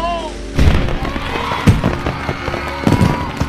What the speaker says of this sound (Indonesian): Erin pun berdiri di ujung dermaga itu untuk melihat kembang api yang bermunculan di langit